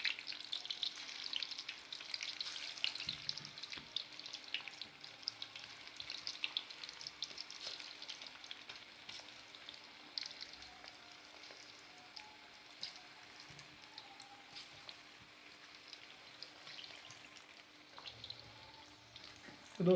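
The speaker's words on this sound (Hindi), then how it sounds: "अब हम इसके अंदर गोश्त को डालेंगे ताकि सही तरह भुन जाए।" Chicken meat fries in very hot oil over high heat, giving a faint, even crackle and spatter that runs on for a long stretch and sounds a little like light rain. Nobody speaks.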